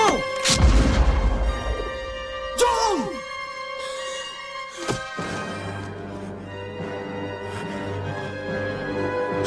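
In a Portuguese-dubbed animated film, a loud gunshot booms near the start, followed by a second crack with a ringing echo, then a lower thud. Music plays underneath and dialogue is heard throughout.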